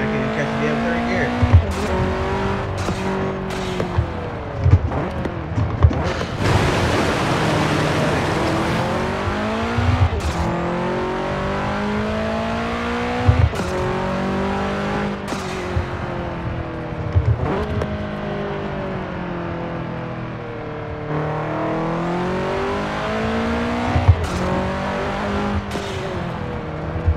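Engine revving hard in Forza Horizon 4, rising and falling through repeated gear shifts with sharp clunks between them, loud and continuous over the whole stretch with a voice talking now and then.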